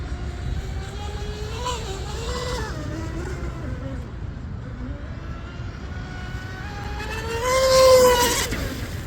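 M700 DIY RC boat with a TP motor running at full throttle, heard as a steady high-pitched electric whine that rises and falls in pitch, peaking loud toward the end, with wind and water noise underneath.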